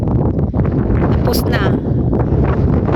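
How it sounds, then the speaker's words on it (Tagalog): Strong wind blowing outdoors beside a new hotel, a steady loud broadband roar buffeting the microphone throughout, with a person speaking briefly over it. "ang lakas ng hangin"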